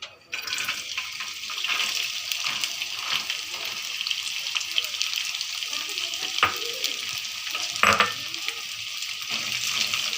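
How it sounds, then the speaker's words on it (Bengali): Capsicum and carrot frying in hot oil in a wok, a steady bright sizzle with occasional stirring scrapes and clinks, close and continuous throughout. "এবার আমি ক্যাপসিকাম আর গাজরটা ভেজে নেব।"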